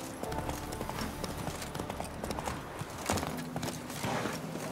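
Roach, the horse in The Witcher 3, gallops with a quick, steady clatter of hooves on the ground, close and continuous over faint background game sounds.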